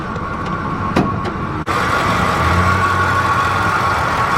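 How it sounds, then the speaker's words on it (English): A pickup truck with its check engine light on idles roughly under an open hood. The engine gives a loud, close, steady rumble with a brief dropout partway through, and no one speaks. "you can definitely hear kind of a misfiring"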